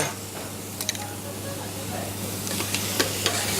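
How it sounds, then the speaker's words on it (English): A soft sizzling hiss from tomato sauce frying in a pan runs steadily, with a few light scraping clinks of stirring near the end. "you're literally just sort of frying everything quite quickly"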